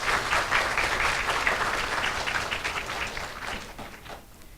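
An audience applauds at a university entrance ceremony for new and transfer students, a dense burst of many hands clapping that starts full and slowly thins and fades over several seconds.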